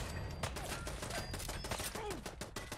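Bursts of rapid gunfire rattle through a Fallout 4 firefight, dense overlapping shots under game noise with a little talk.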